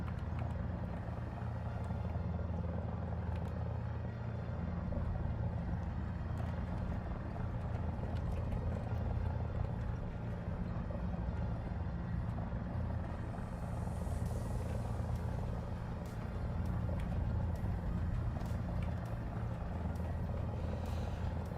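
In War Thunder air/ground simulator battles, a loud, continuous engine drone with a deep rumble runs unbroken for the whole stretch, with no voices over it.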